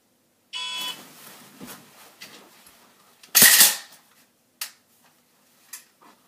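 A shotgun is racked with a dummy round during a timed drill, a sharp loud metallic clack-clack in the middle, with lighter clicks and handling knocks before and after, close and alone.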